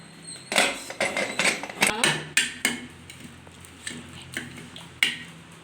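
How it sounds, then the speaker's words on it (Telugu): Bottle gourd dal mashed in a metal pot, producing a series of close, irregular clanking taps and scraping knocks of a utensil against the pot, loud at first and then sparser. "పప్పు రుబ్బుతున్నాం సొరకాయ పప్పు ఫ్రెండ్స్"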